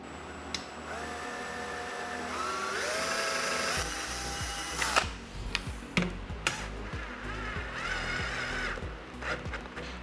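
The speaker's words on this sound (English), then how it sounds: "So I'm going to countersink a couple of screws just to hold it." Power drill driving countersunk screws while a portable air-conditioning unit is installed in a garage, with several short whirring bursts that rise in pitch and stop, close and fairly loud, and no talking.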